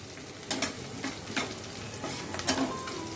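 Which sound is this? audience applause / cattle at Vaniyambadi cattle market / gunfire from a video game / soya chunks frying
soya chunks frying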